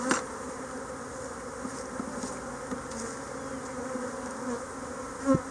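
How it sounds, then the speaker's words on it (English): Honey bees buzz around an open hive while frames are handled: a dense, steady, moderate drone of many insects, with a louder bee passing close near the end. "We're gonna shake those bees off into this hive too, because this hive was weaker."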